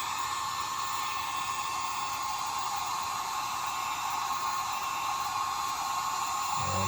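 A heat gun blows hot air onto heat-shrink tubing over a heated vest battery cable, a steady close hiss and whine holding evenly the whole time with no talking.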